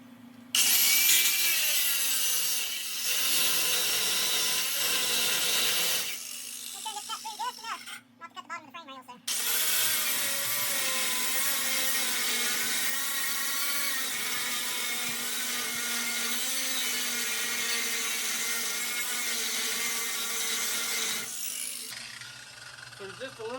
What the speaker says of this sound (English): cut the weld off the bottom of the frame there to get that last little piece of that cross member out of there